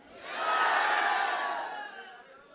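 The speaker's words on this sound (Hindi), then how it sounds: "तालियां हो जाए सभी के लिए, शाबाश" A crowd of senior citizens at a gathering cheering and whooping for everyone, a swelling roar of voices that peaks and then fades over a couple of seconds.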